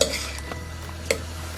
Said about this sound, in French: Après, on va mélanger.